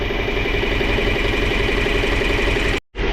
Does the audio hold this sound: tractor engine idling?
yes